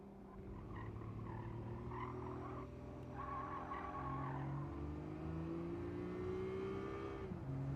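Engines of a race car in a video game drone and rise steadily through a tight track, with continuous revving tones shifting in pitch and a brief drop near the end, no talking.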